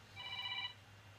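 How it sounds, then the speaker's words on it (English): A telephone rings once with a short electronic trill, faint and slightly distant, over a low steady hum in a quiet room. "sorry about the phone there"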